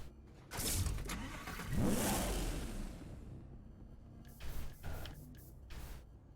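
Lamborghini Gallardo Spider and Audi R8 Spider sports car engines in Need for Speed: Hot Pursuit Remastered rev and surge past with a whoosh, a rising roar that fades out, then a few sharp bursts near the end.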